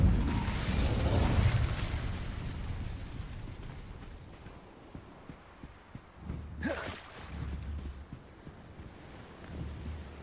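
Fire spell cast in Hogwarts Legacy, a soft whooshing burst of flame near the start that fades, followed by lighter crackling pops and a sharper flare partway through.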